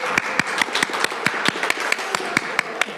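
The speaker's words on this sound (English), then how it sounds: "can we have a round of applause for Lynn for doing all the work of coordinating this?" A small group at a community meeting gives Lynn a round of applause, a steady patter of sharp, close hand claps lasting a few seconds.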